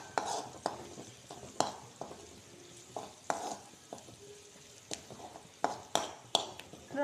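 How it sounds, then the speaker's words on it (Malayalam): Chili powder, turmeric and chili flakes are stirred in a pan, a faint sizzle broken by a dozen or so soft spoon-on-pan scrapes and taps at an uneven rhythm. "ഇത് നമുക്ക് നന്നായിട്ട് ഇളക്കി കൊടുക്കാം"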